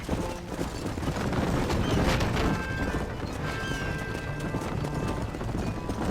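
A horse gallops in the Red Dead Redemption video game, with rapid rhythmic hoofbeats close up, a whinny and faint game ambience underneath.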